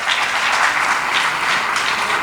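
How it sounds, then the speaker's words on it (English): An audience applauds at a community celebration honoring a judge, with dense, sustained clapping that stays loud and even throughout. "you all do deserve a big round of applause"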